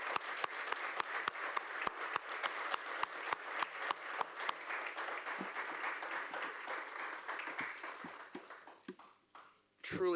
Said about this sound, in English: could we please give all three of our amazing applicants a round of applause